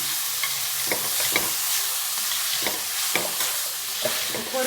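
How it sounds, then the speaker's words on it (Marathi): Chili powder and grated paneer sizzle in a pan for paneer bhurji, with a steady hiss punctuated by regular spatula taps and scrapes as the mixture is stirred. "मी 1 चमचा घालते आणि चांगलं परतून घेते तिखट"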